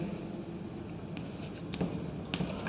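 A pen or chalk writes an example sentence on a board in a grammar lesson, a soft scratchy stroking with several short bursts of strokes, close and quiet, with no voice over it.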